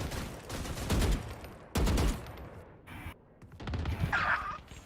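Gunfire in the tactical shooter Valorant during a charity tournament match: loud bursts of rapid shots around the first and second seconds, then a shorter volley later, with clattering game effects between.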